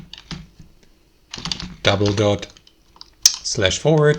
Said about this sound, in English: here in the search or URL bar, type in edge //